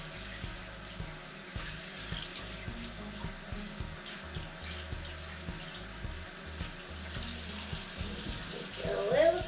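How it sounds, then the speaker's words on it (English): Tap water runs steadily from a faucet while a kitten is rinsed, as a continuous moderate splashing with a low pulsing rhythm and soft voices in the background. "Just turn on the water."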